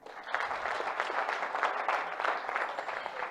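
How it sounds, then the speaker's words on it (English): Steady applause from a conference closing-session audience, dense clapping that holds at an even level for the full few seconds. "Kindly clap for them."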